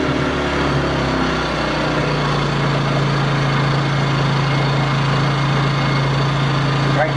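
A WEN 56200i inverter generator runs in eco mode with a smooth, even hum and a steady low drone, close by and continuous, while someone talks over it.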